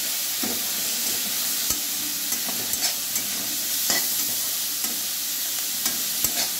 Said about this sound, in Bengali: এটাকে আমি দিয়ে নাড়বো।